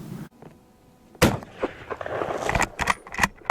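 A Winchester Model 70 Super Grade bolt-action rifle in .270 fires a single loud shot outdoors, followed by a rolling, rumbling echo over several seconds.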